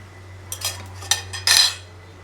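Fried meat snacks made from Eid sacrifice meat lifted out of a frying pan with a metal utensil, giving a few sharp clinks and scrapes against the pan over a low steady hum.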